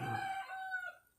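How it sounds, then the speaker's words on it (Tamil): A rooster crows once in a long drawn-out call, fairly close and clear, with the crow fading toward the end and no talking over it. "இப்போ நான் சொல்லிக்கொண்டு இருக்கும்போது கூட சேவல் சத்தம் கேட்குது."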